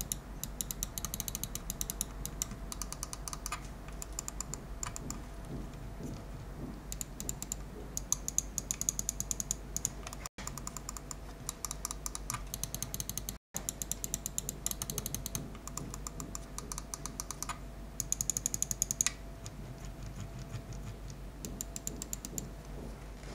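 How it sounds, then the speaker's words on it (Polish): Clicks from a Savio Hex-R gaming mouse with Huano Blue Shell switches, rapid sharp clicking repeated steadily in close-up for over twenty seconds, with two brief silent gaps and no talk. "nie może tutaj też zabraknąć tego, żeby pokazać, jak ta myszka brzmi"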